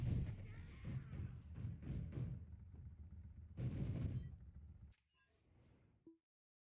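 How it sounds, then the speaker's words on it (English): A video game in development produces a burst of heavy thudding impacts and rumble that build and cut off abruptly, followed by a faint tail and then silence. "And then here I'll be able to show the explosion."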